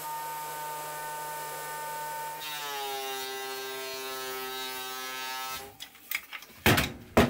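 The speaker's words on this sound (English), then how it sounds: "I'm going to use my thickness planer for that" A thickness planer stripping an oiled layer off a wooden board hums steadily, its whine rising in pitch as the board feeds through, followed by clunks and handling noises.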